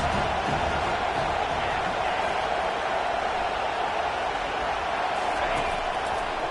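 Stadium crowd noise in an NCAA 25 college football video game: a steady, dense roar of the packed stands that stays loud and unbroken throughout, with no clear peaks or breaks.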